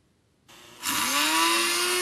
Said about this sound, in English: I can begin sawing, and I'll make a slit right in the center.